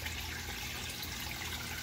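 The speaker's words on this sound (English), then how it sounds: "Water comes into the tank through the valve there and the piping" Water running through a valve and piping into a radial flow settling tank on a 100 gallon fish tank aquaponics setup, a faint, steady trickling hiss throughout.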